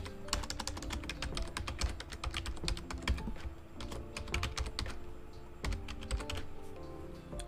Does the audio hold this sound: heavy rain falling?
no